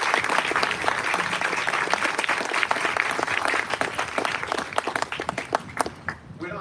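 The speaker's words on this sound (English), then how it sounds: "Can we get a round of applause?" Audience applause at a middle school celebration, a dense steady wash of many hands clapping close by for several seconds, thinning out slightly toward the end.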